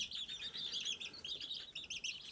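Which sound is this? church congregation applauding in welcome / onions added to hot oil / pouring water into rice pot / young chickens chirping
young chickens chirping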